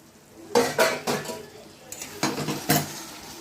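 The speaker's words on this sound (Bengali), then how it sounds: "মশলাটা দেওয়ার পরে একটা ঢাকনি দিয়ে ঢেকে দিলাম।" Metal clatter of a lid and cookware on a pan while shol fish cooks in a Bengali kitchen, a few sharp clanks and scrapes in separate bursts, fairly close, with nothing else around.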